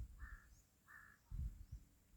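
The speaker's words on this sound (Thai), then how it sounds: "เสียงอีการ้อง" A crow caws twice at a distance, two short harsh calls separated by a pause, with low rumbling noise in the background.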